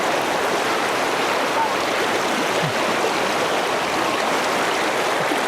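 A river flows steadily with a broad, continuous rushing wash, close and even throughout with no talk over it.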